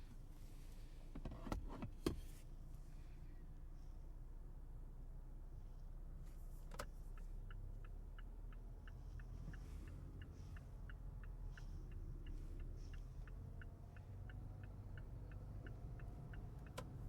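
Car driving on a road, a low steady engine and road rumble from inside the cabin, with a few brief clicks early on and a faint rhythmic ticking like an indicator through the middle, and no talk.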